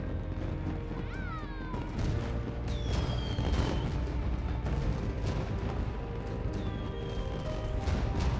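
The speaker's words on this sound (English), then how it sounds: "Man, I never saw fireworks from that close up before." Fireworks burst close by during a summer scene in the video game Persona 5 Strikers, rising whistles followed by repeated booms and crackles over a steady background.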